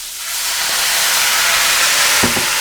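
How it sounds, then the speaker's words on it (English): Bourbon whiskey and red wine vinegar bubbling hard with carrots in a hot pan, a loud steady sizzling hiss that swells and stays close, with a couple of faint knocks near the end. "Ooh, listen to it bubble."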